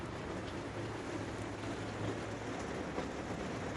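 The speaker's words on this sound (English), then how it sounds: "That, friends, is rain on the roof." Rain falls on a camper roof in a steady, even hiss that runs unbroken throughout, fairly quiet, with a faint low rumble underneath and no voices.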